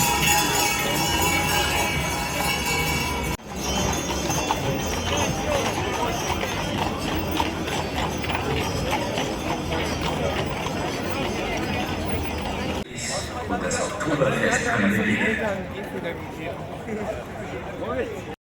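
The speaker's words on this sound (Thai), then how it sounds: "ก็จะมีขบวนแห่ รถม้าของบริษัทเบียร์ต่างๆ ผ่านมาค่ะ" At Oktoberfest in Munich, horse-drawn carriages from beer companies parade past with a steady clatter of hooves, mixed into dense crowd murmur while people talk nearby.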